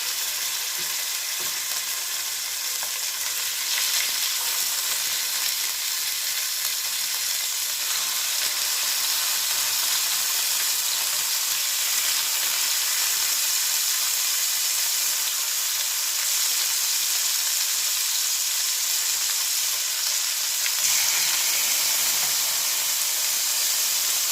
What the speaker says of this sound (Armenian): հիմա մեր հավի թևերը կդնենք, որ տապակեն